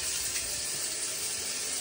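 Water runs steadily from a tap in a close, continuous hiss during a wet shave, with no pauses and no voices.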